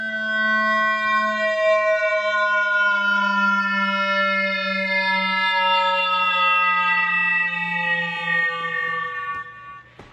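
A sustained tone slides slowly downward in pitch over several seconds, moving in small audible steps rather than a smooth sweep, then fades out.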